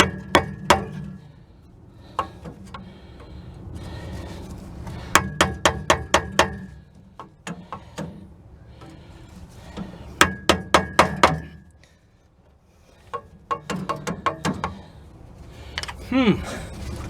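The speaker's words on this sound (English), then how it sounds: "I'm back with a screwdriver and a hammer for a little tappy tap tap" Hammer tapping on a screwdriver to free a stuck exhaust pipe: sharp metallic strikes in quick bursts of four to six, close and loud, separated by pauses with a low hum in the background.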